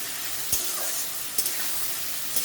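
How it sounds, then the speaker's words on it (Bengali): Onions fry in a pan for gondhoraj lemon chicken with a steady, close sizzle, broken by a few brief scrapes of stirring. "দেখো আমার পেঁয়াজটা প্রায় ভাজা হয়ে গেছে।"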